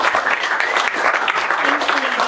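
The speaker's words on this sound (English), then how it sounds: "Let's give a round of applause." An audience at a tech talk on outdoor innovation claps steadily in a dense, even burst of applause filling the room for a couple of seconds.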